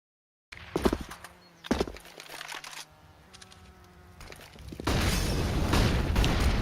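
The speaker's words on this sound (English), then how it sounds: "The incendiary grenade goes down, picks up the first kill." An incendiary grenade goes off in Counter-Strike on the Inferno map, a couple of muffled thumps and shuffling followed by a broad, loud roar of flames that carries on steadily.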